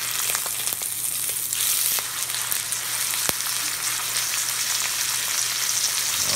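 New York steak frying in a hot pan just after being flipped, a dense, steady sizzle and crackle with scattered sharp pops, close and continuous with no talk.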